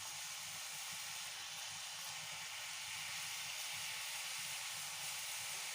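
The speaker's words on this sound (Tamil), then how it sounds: "ஒன்று ஒன்றா இந்த மாதிரி தனித்தனியாக போட்டு பொரிச்சு எடுத்துக்கோங்க" Small pieces of rice flour snack dough deep-frying in hot oil over a high flame give off a steady, even sizzle and hiss that runs unbroken throughout, with no voices over it.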